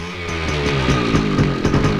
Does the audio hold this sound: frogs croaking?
no